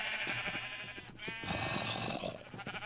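Sheep in the Minecraft video game bleat repeatedly, several wavering calls overlapping one another, loud and close, with faint clicks from game actions underneath.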